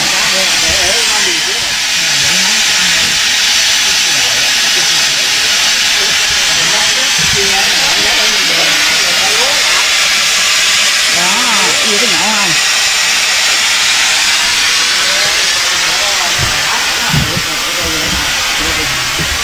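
Steam hissing loudly from a steaming machine like a pressure cooker, a continuous dense close roar that runs throughout, with people talking underneath.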